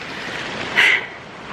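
Creek water rushes steadily during a hiking creek crossing, a continuous broadband wash that swells briefly in the middle, close and fairly loud with no talk.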